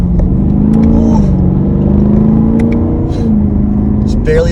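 A 2021 Chevrolet Camaro with the LT1 V8, driven in sport mode with manual shifting, accelerating steadily as its engine note climbs in a sustained, close interior drone, with occasional brief clicks and faint voices mixed in.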